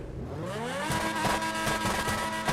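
A car fitted with a Ferrari engine revs up steadily, its pitch climbing and then holding a rough, throaty roar, close and loud with no talking.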